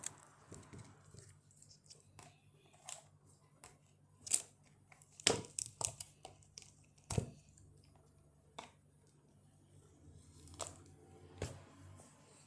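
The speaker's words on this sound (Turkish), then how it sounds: "Vallahi da bunu ben makasla açacağım." Pink scissors snip and squish through a food package, likely a bubble tea or Dubai chocolate wrapper, in several short separate cuts and crinkles close by, with quiet pauses between them.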